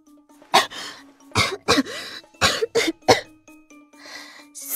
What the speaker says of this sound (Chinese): 却突然听到耳边传来了一阵猛烈的咳嗽声。